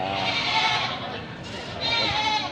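Goats on a livestock farm bleating loudly and close, long wavering calls that overlap, with a second call rising near the end.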